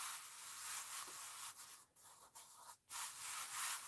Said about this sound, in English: Just going to rub my hand all over